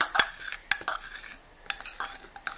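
A utensil scrapes excess maple syrup out of a container in a few short, sharp clinks and scrapes, close up, with quiet pauses between strokes and no talking.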